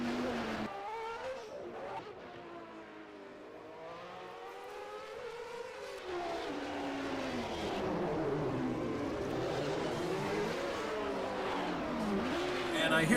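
Formula 1 race cars roar around the 1991 Monaco Grand Prix circuit in a racing game, their engines whining and sweeping up and down in pitch through gear changes beneath steady commentator talk.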